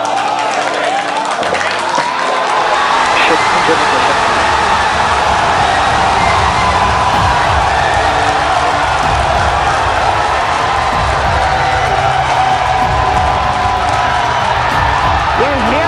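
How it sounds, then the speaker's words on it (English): Crowd cheering and whooping at a SpaceX Starship Super Heavy launch during stage separation, a steady loud roar of many voices running throughout beneath a launch commentator's voice. "You hear the cheering."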